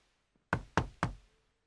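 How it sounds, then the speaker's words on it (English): Three firm knocks on a wooden door at the ogre's castle in a Puss in Boots story, evenly spaced, close and loud, with silence around them. "He knocks on the door."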